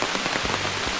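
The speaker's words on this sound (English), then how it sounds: "Man, the rain is really coming down now." Heavy rain pours down on a hiking trail, making a dense, loud, unbroken hiss of drops hitting the surface for the whole second.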